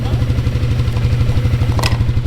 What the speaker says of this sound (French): Le tracteur il est au ralenti, il consomme que dalle.